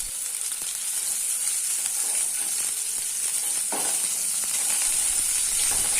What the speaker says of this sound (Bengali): 2 চামচ পরিমাণ তেলে ফুলকপিগুলো ব্রাউন করে ভেজে নেব।